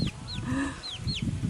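Hens on an off-grid farm in Jamaica give soft clucks and a few rising squawks, fairly close and moderately quiet, over a low background of outdoor rumble.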